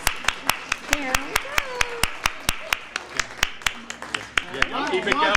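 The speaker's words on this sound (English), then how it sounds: "Please give a big round of applause to Miss Ethel Pritchard and Mr. Arliss Fletcher." An audience at a black box theater claps for performers, with crisp, evenly spaced hand claps in a steady rhythm while people talk over it.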